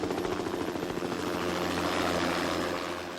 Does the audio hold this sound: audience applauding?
no